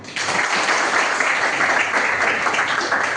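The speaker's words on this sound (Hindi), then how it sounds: "तालियां।" Students and onlookers at a computer academy class break into a dense, continuous burst of applause, fairly close and loud, with little else heard.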